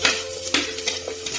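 Onions added to mustard seeds in hot coconut oil, a close crackling sizzle with quick popping and stirring bursts.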